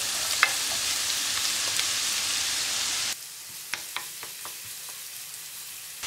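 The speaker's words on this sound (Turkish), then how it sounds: "İçerisine 1 yemek kaşığı tereyağı, 1 yemek kaşığı zeytinyağı, burada doğradığım 2 orta boy soğanı tavama alıyorum." Two chopped medium onions fry in a pan with a tablespoon of butter and a tablespoon of olive oil, giving a steady loud sizzle that drops suddenly to a quieter crackle, with a few sharp stirring clicks.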